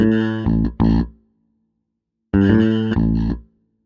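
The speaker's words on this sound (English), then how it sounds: "We'll first listen to this bass without effect" A mid-range-heavy bass guitar plays dry with no effect, two short phrases of a few plucked, punchy notes separated by silence, loud and close.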